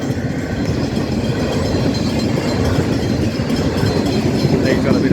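A train rolls over a level crossing, its wheels clattering in a loud, steady rhythm close by, while someone talks over the rumble.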